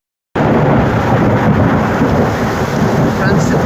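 Thunder rolls through a storm at Kurisumala hill in Vagamon, Kerala, breaking in suddenly as a loud, sustained, close rumble that fills the clip without fading.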